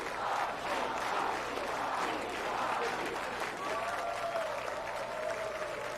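A crowd applauding steadily, dense continuous clapping from many hands with some murmur mixed in, fairly close and loud throughout.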